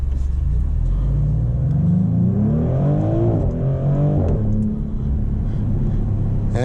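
A 2025 Maserati GranCabrio Trofeo accelerates hard, its engine rising in pitch through the gears with a deep rumble and a brief shift, heard steadily from inside the car.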